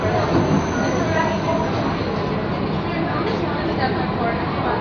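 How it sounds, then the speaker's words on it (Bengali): A local train runs past on the neighbouring track in Kolkata while riding an AC local toward Dum Dum, a loud continuous rumble of wheels and carriages close by, with a voice talking over it throughout. "পাশ থেকে কিন্তু একটা লোকাল ট্রেন যাচ্ছে"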